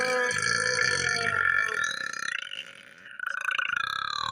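A long, loud, drawn-out burp with a wavering, throaty pitch that fades, followed by a second shorter burp, close to the microphone with no talk.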